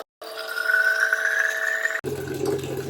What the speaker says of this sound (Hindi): इस बोतल में पानी भर रहा है